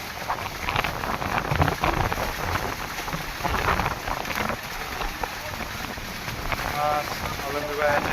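Strong wind over a fishing pond roars and buffets the microphone in a continuous rushing blast, with faint voices talking underneath.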